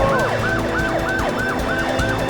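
A fire engine stuck in morning rush-hour traffic sounds its siren, a loud, close wail that sweeps up and down in a fast repeating cycle with no break.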